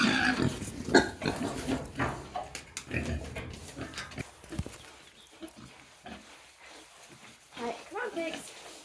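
Friendly farm pigs grunting and snuffling as they forage, loud bursts up close at first, then fainter scattered grunts, with a person talking over them.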